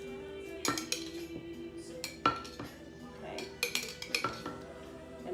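Spoon scraping and clinking against metal pans while marinara sauce is ladled over eggplants: quiet, scattered metallic taps and scrapes in a kitchen, close by, with a low background hum and no talking.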